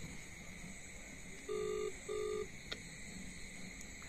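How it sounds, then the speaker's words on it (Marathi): A phone call being dialed, heard as two short steady electronic tones in quick succession under a faint background hum, with no talking. "आपण त्याला कॉल करू, बघू आता मागाच्या प्लॅनसारखा येतोय काय तो"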